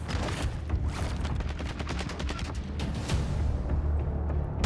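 Rapid automatic turret gunfire in the video game DMZ, a dense continuous burst of shots lasting throughout, loud and close, with a few heavier reports mixed in.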